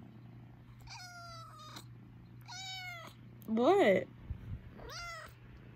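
A cat meows several times close by, drawn-out calls in a rhythmic series, while a person briefly speaks between them over a low steady hum.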